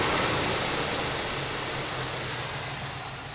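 A 1978 Oldsmobile Cutlass with a 403 V8 idling while warming up, a steady low rumble with broadband hiss, even and unbroken, gradually easing slightly in level.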